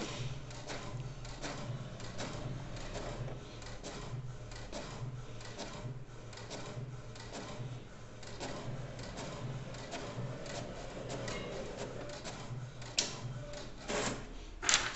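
An HP 2330-series inkjet printer runs through pages with a steady, repetitive mechanical whir and clatter, moderately quiet, with a few louder clicks near the end.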